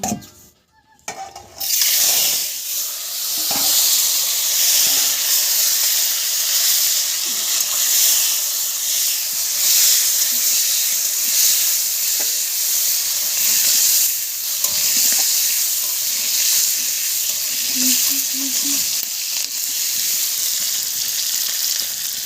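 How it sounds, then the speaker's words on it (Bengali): Boiled eggs and potatoes seasoned with salt and turmeric sizzle loudly in hot oil, a continuous close hiss with faint stirring knocks and no speech. "এখন এগুলোকে ভেজে নেব"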